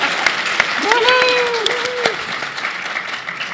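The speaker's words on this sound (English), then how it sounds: "You should be clapping." Audience applause at a live Gen Con 2018 performance, a steady wash of clapping lasting a few seconds while a voice speaks over it in an exaggerated, melodic tone.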